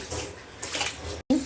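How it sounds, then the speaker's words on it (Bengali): Boiled hot water splashes and gurgles as it is poured into a cooking pot of beef khichuri, a short close pour that cuts off abruptly near the end. "ফুটানো পানিটা আমি এখানে দিয়ে নিলাম"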